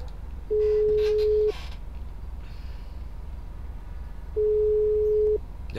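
A phone call placed in a GTA roleplay game gives two long, steady busy-signal tones about three seconds apart, each lasting roughly a second, clear over a low rumbling background with no talk.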